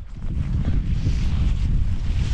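Strong winter storm wind roars loud and steady against the microphone, a continuous low rumbling buffet with gusty swells and no voices.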